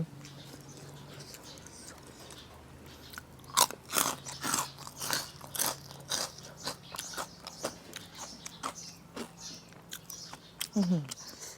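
Large plump white oysters being eaten, with repeated close, wet chewing and biting sounds in an irregular rhythm, faint voice traces beneath.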